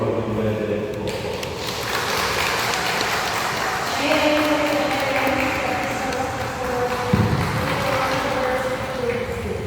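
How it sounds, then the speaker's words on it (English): A congregation in a church in Boracay applauds a newly wedded couple, steady sustained clapping from many hands filling the room, with voices talking over it. "let's give a round of applause for our newly wedded couple"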